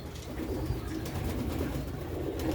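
Sialkot pigeons coo softly and continuously, a low, throaty murmur from birds nearby, with no voices over it.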